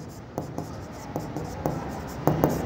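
Chalk or a marker scratches and taps across a classroom board in short, irregular strokes, faint to moderate over a quiet room hum.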